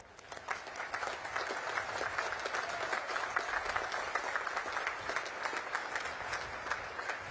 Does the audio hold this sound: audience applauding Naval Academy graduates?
yes